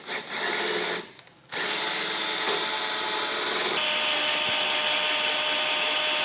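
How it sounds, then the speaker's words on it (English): A power drill spins a 1.25-inch hole saw through a mounting point during a Blue Ox base plate install on a 2013 Mini Cooper, a steady loud close whine that pauses briefly early on, then runs on continuously. "So we'll get this drilled out."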